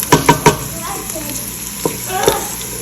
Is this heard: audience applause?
no